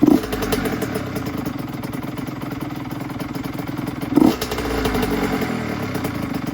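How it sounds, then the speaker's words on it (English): A 2003 Honda CR85 supermoto two-stroke engine idling on a 4-to-1 fuel mix, a loud, close, steady rattling putter with a brief blip of revs partway through. "I'm gonna let it idle for about an hour or two, just like this on a 4-to-1 mix."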